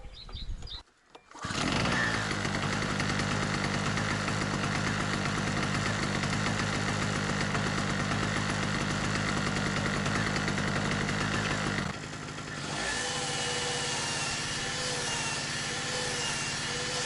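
A small engine starts with a sputter, then runs steadily and loudly at a constant drone, settling to a slightly lower hum near the end.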